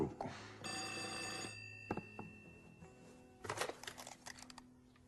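An old-style telephone bell rings in a short burst, followed by a couple of thuds and some rustling and handling noises.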